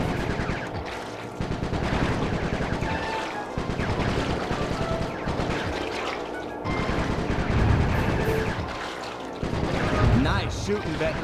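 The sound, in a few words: gunfire from Bentley shooting in the video game Sly 3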